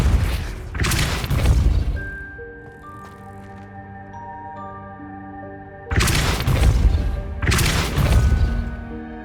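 Two heavy whooshing blasts of the Depulso spell in a Harry Potter video game, one at the start and another about six seconds later, with a sustained magical tonal hum between them, loud and close.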